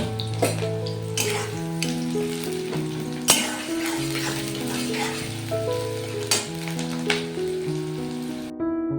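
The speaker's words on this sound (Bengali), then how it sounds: "ওর মধ্যে আমি কুচনো পেঁয়াজগুলো দিয়ে দিচ্ছি" Chopped onions fry in hot oil for a Bengali fish egg curry and are stirred, a continuous sizzle with occasional scraping stirs, set under steady background music.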